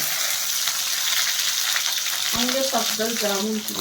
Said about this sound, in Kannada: ಸಾಸಿವೆ ಹಾಕ್ಕೋತಾ ಇದ್ದೀನಿ ಸ್ವಲ್ಪ ಜೀರಿಗೆ ಹಾಕ್ಕೋತಾ ಇದ್ದೀನಿ